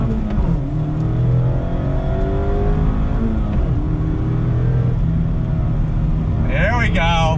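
A 2020 Mazda MX-5 RF under throttle, its engine droning steadily with rising harmonic sweeps as it accelerates, loud and sustained from inside the car, with a brief voice near the end.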